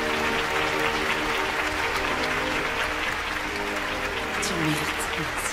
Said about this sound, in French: Merci d'applaudir l'enseignante de l'année